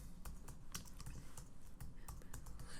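Quiet, rapid typing on a computer keyboard while naming a layer in Adobe Character Animator, with irregular clusters of light key clicks pattering along at close range with no talking.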